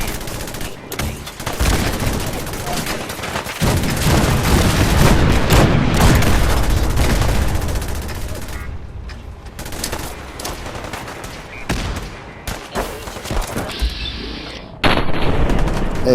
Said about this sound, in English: The cannons are ready. Fire at will.